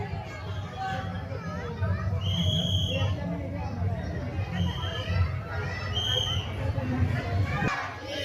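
Crowd of devotees filing through Ganpati darshan at the Dwarka Ganpati decoration in Pune, a dense murmur of many voices with children's calls and shouts rising above the steady babble.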